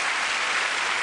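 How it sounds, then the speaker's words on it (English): Studio audience applauding on a 1989 British game show, a steady, dense wash of clapping that fills the whole second without pause. "round of applause, Melvin"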